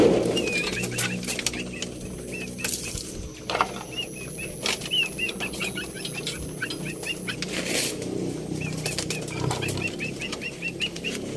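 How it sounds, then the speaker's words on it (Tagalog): Breeder pigeons coo softly and flap their wings while pecking at scattered feed in a loft, with repeated close wingbeats and scattered light taps. "Sarap ng kain ng mga kalapatids."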